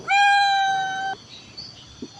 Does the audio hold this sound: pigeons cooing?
no